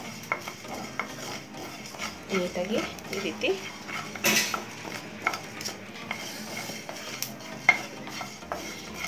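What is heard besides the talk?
dry frying coriander seeds, pepper and cumin in pan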